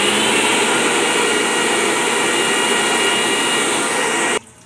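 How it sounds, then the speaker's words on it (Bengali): Poppy seeds are ground into paste in an electric grinder, a loud, steady motor whir with a broad rushing roar that runs unbroken before cutting off abruptly near the end. "এবার পোস্তটা আমি বেটে নেব"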